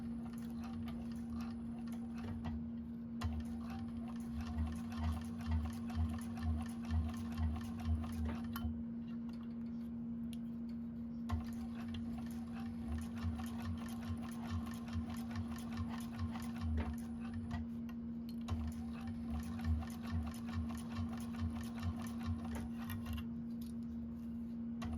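Sewing machine stitching fabric bag pieces, bursts of rapid mechanical clatter in several runs separated by short pauses, with a steady low hum throughout and no talk.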